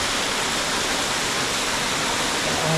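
Castara waterfall in Tobago roars steadily up close, a dense, even rush of falling water filling the whole clip without a break.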